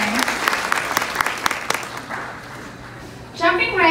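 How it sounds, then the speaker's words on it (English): An audience at a Poshfest 2019 panel session gives scattered applause for the panelists, fading after about two seconds, followed by a speaking voice near the end. "Let's give a round of applause for these ladies for being here today."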